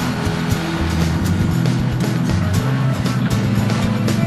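A Nissan Rogue with all-wheel drive strains up a steep dirt hill, its engine droning steadily with a gritty, rumbling roar of spinning wheels, loud and continuous throughout.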